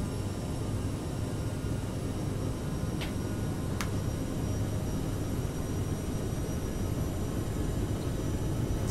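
Aerosoft CRJ-900 jet engines at takeoff thrust in Flight Simulator 2020, a steady broadband roar holding constant throughout, with a couple of faint brief clicks partway through.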